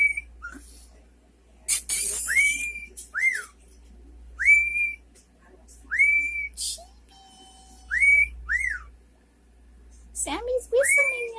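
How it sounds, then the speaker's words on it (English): A pet cockatiel whistles repeated rising-and-falling phrases, clear and close, in short bursts separated by pauses, with a person's voice speaking softly between some of them. "Aww, Sammy, are you whistling at me?"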